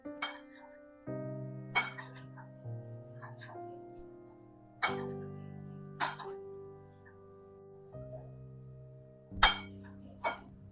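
Chana chaat ingredients, including coriander, mint and lemon juice, being mixed in a bowl, giving a series of sharp clinks and taps of a spoon against the dish at irregular intervals, fairly quiet with no talk.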